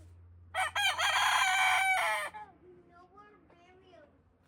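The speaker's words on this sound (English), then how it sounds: "Is this the one that makes that weird noise? That Yeah. It sounds like a kazoo." A homestead rooster gives one loud, buzzing, kazoo-like crow lasting about a second and a half, followed by softer clucking murmurs afterward.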